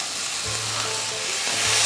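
Green zucchini tipped into a hot pan already holding yellow pepper, giving a steady sizzle with a low hum and light clatter as the vegetables land and settle, no voices.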